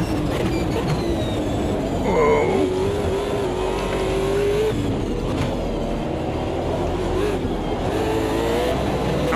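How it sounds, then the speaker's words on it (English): A race car engine in Automobilista 2 drones loud and steady, its pitch rising and falling as it revs through gears, with rumbling road and tire noise underneath. "Again, that motor sounds excellent."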